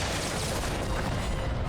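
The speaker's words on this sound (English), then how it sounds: "Explosions!" Continuous dense rumbling blasts from combat in the Star Wars: The Old Republic video game, a steady loud barrage of explosions and gunfire with no pauses.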